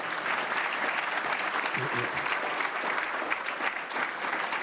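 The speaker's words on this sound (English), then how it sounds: "How about a round of applause for all the chambers participating?" A luncheon crowd claps steadily in sustained, dense applause that holds at an even level throughout.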